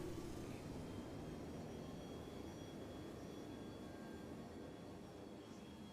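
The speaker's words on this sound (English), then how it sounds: "And then we've got the afterburner, we're doing push now." A jet afterburner in the video game Star Citizen gives a continuous, fairly quiet roar with faint steady tones threaded through it, unchanging throughout.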